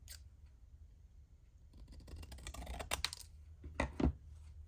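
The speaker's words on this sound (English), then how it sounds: "Now I'm just going to cut straight down the middle." Scissors cutting paper straight down the middle for a handmade pocket watch booklet, heard as a soft run of close, crisp snips and rustles that grows denser toward the end, with no talking.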